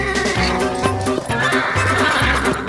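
A colt being broke on a ranch whinnies loudly and repeatedly, its neighs rising and falling in several bursts over a few seconds, with hoof clatter and ranch noise mixed in.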